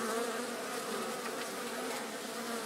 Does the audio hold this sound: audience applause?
no